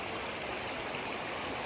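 Rushing floodwater near a bridge in Borongan pours in a dense, steady roar, loud and continuous with no pauses and no voices.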